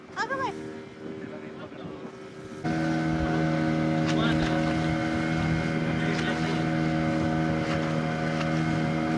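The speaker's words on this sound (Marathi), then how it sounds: "आम्ही आता चाललोय बोटिंग करायला." A boat ride out on the sea along the Konkan coast, a steady engine drone rising loud and constant after the first few seconds, with wind buffeting and voices talking at the start.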